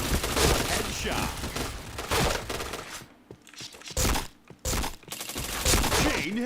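Rapid bursts of video game gunfire with chained headshot effects, loud and dense, broken by brief pauses and sharp shots near the end, under voices talking.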